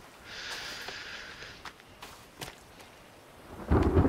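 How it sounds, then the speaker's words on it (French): Storm ambience in the survival video game The Forest: a hissing rain bed with a few sharp distant cracks, then a deep thunder rumble swelling near the end, with no voices. "Oh, il m'a fait peur l'orage."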